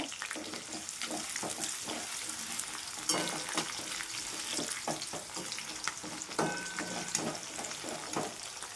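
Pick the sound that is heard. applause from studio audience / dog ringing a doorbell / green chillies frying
green chillies frying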